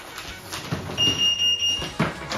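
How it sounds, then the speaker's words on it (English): A carbon monoxide alarm gives four short, high-pitched beeps in a quick row against faint background noise and movement. "That's our carbon monoxide alarm going off."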